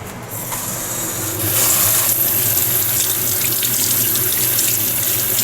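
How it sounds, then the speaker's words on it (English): Tap water runs steadily over salt-soaked cabbage being rinsed for kimchi, a continuous close splashing rush that grows a little louder and fuller partway through, with no talking. "Now going back to the cabbage, you can see that it's soaked and drenched in salt, so he's going to rinse them down after 2 hours."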